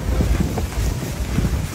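Steady gusty wind buffets the microphone on a ship at sea over a low, rumbling wash of water and engine noise, loud and continuous, with no voices.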